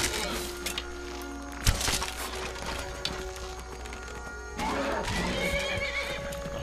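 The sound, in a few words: horse neighing and hooves in video game Skyrim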